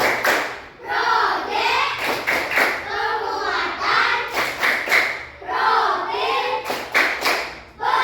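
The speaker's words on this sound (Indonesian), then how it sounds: "mari kita tepuk terima. Ya, tepuk terima." A class of children claps in rhythmic bursts, sharp hand slaps grouped into quick patterns between chanted voices, with an adult teacher leading the clapping and the children chanting along.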